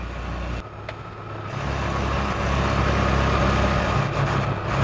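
A UAZ Hunter rolling along with a loud, steady engine drone and constant loose clattering and rattling from the body and underside, heard from inside the cabin with no talk.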